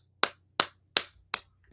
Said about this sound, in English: I am giving a round of applause to that one, Ryan.